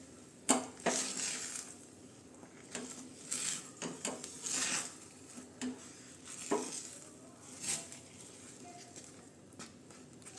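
A spoon scrapes and clinks against a pan, stirring Karachi halwa in ghee with faint sizzling; irregular soft knocks and rubs repeat throughout, quiet and close.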